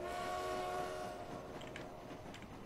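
Diesel trains sit waiting at a busy station in the Transport Fever simulation game, a tonal horn sounding briefly before fading into a low rumbling hum with faint clanks, heard quietly.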